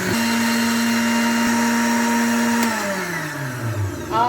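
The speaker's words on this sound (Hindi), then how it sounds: "थोड़ा सा काला नमक डालने के बाद आपने करना है इसको ब्लेंड।" Electric kitchen blender whirring steadily with a sustained motor whine, blending a falsa fruit drink with sugar, salt and black salt, then the motor winding down near the end, loud and close.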